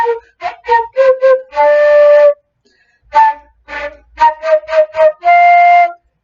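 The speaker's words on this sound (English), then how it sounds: "Because if you don't tongue the notes, it sounds like this." Flute played without tonguing, two short phrases of slurred notes that blur together, each ending on a longer held tone, with a brief pause between them and no talk.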